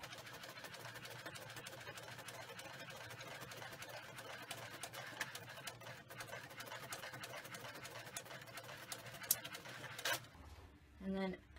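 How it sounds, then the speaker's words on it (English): A printer running a design job for Scentsy samples, a steady mechanical whirring and clatter with dense repetitive ticking that carries on for about ten seconds, then stops abruptly, leaving a few faint clicks and a soft hum. "then it will print this design as well. Start printing right away."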